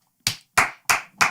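Four sharp, evenly spaced hand claps from a man, close and loud, each ringing briefly before silence.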